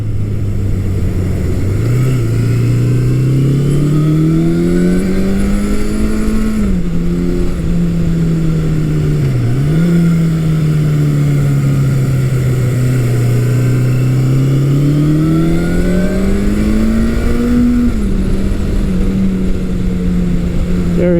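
A Suzuki GS750 motorcycle engine revs steadily and loudly, its pitch climbing and dipping through gear changes, sustained and close throughout.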